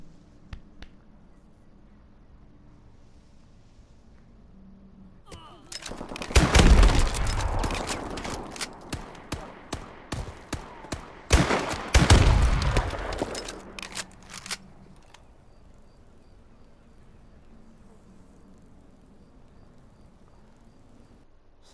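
NA-45 Screamin' gun firing in Call of Duty Advanced Warfare: two long, dense bursts of rapid, loud shots, each lasting a few seconds, with quieter game ambience before and after.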